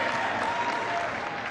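Brief, steady applause from a seated audience at a talk, a soft, even wash of many hands clapping at a moderate distance.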